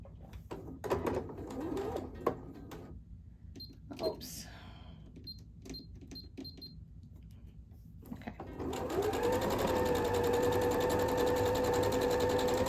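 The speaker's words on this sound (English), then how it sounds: "sew a 1/4 inch right down that seam or that side" A sewing machine stitches a quarter-inch seam on a flying geese quilt block, starting with a few scattered taps and clicks, then settling into a loud, steady whirring run for the last few seconds.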